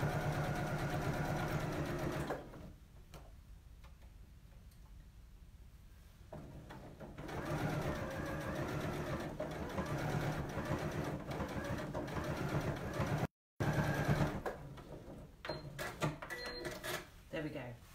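Home sewing machine stitching quilt binding close to its edge, a steady mechanical whir that starts, pauses and resumes in stretches, with someone talking over parts of it.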